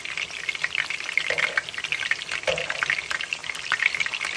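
Meatballs browning in a hot pan, a steady busy sizzle and crackle of frying with occasional stirring, close and moderately loud, alone.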